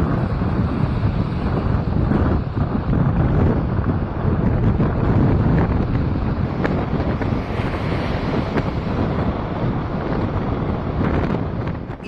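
Strong gusting wind from Cyclone Fengal, weakening near Puducherry and Tamil Nadu during heavy rain, roars as a constant loud buffeting rush against the microphone, without pause for the whole stretch.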